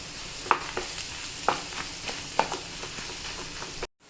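Potatoes fry in a pan for a hotel-style potato dish while a spoon stirs them, scraping and knocking against the pan every second or so over a steady sizzle.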